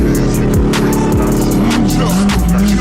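A VelociRaptor truck powers through the Glamis sand dunes with a loud, continuous engine roar that surges in pitch, plus short bursts of revving, heard close.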